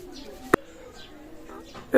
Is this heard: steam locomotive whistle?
no